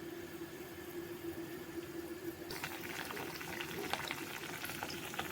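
Raw yeast-free çiğ börek dough dropped into hot oil, sizzling and bubbling steadily and close by, with the crackle growing louder and busier halfway through as more dough goes in; no talking.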